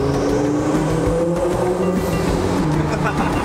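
A twin-turbo Lamborghini accelerates hard through a tunnel, its loud engine droning and rising in pitch with a reverberant roar, heard close and continuous.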